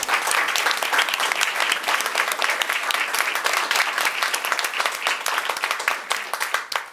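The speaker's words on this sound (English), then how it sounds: "we owe her a round of applause." Dense, sustained applause fills the room at a fall school board candidate forum, many hands clapping steadily from start to finish with no talk.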